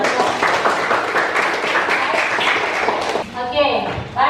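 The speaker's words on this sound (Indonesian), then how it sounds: "Tepuk tangan." Students in a classroom applaud after group presentations, with dense, lively clapping for about three seconds, then fading as a voice begins speaking.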